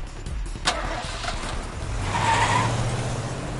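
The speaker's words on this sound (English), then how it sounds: "The engine roared to life and the van sped away." A van engine in 428: Shibuya Scramble starts with a brief crank and catches into a steady mid-pitched idle and rev, close and moderately loud over background noise.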